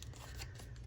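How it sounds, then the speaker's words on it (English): Scissors snip through a printed photo being trimmed for a creative daily journal, giving a short run of close, crisp cuts and papery crinkles with no one speaking. "I cut more than I intended on."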